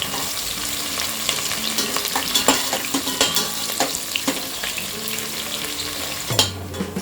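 Thinly sliced onions frying in a pot for paneer matar pulao, a steady close sizzle broken by intermittent stirring scrapes and clinks, with no voices.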